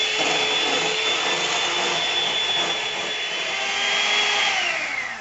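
A steady, loud electric mixer whirs without a break while whipping heavy cream for a strawberry coconut tres leches cake, with no talking.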